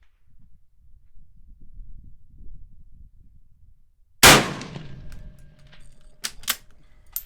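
A single sharp, loud Mosin Nagant rifle shot cracks out after several seconds of quiet outdoor rumble, followed by a decaying echo and a few faint clicks.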